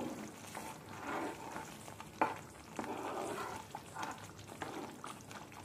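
Mushroom curry sizzles in a pan as butter is added and stirred, a soft, continuous frying hiss with scraping and stirring noises, fairly quiet.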